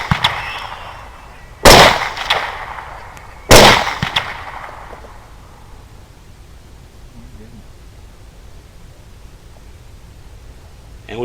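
Two loud, sharp rifle shots fired at hogs on a hog hunt near a barn and pasture, about two seconds apart, each ringing out and decaying, followed by quiet outdoor ambience.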